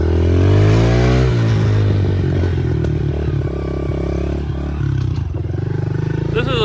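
A Honda 110 dirt bike without a clutch rides a slippery trail in Quebec, its small engine loud and close with shifting revs, rattling and clatter from the rough ground.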